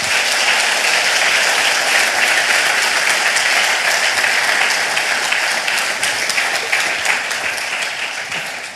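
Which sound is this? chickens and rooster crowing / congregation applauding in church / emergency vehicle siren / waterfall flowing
congregation applauding in church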